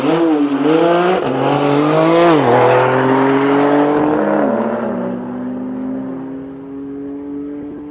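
A Porsche and a BMW G82 launch hard in a drag race at a private track day, engines revving loudly and climbing through gear changes before fading into the distance.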